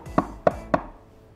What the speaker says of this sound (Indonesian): suaranya orang ketuk pintu ya. Atau seperti kayak orang lagi memukul kayu